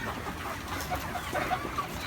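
Cockerels on a poultry farm cluck and murmur in short overlapping calls, a close flock chattering over a steady background din.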